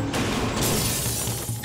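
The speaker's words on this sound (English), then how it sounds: "Gratuitous glass breaking will never be funny." Glass shatters with a bright, crashing burst in Batman: Arkham City, followed by a brief noisy tail of falling shards, loud and close with no speech.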